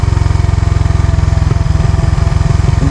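A Suzuki Raider Fi motorcycle engine brakes downhill, giving a loud, close, rapid pulsing engine drone with a steady throbbing rhythm and a slight shift in tone partway through.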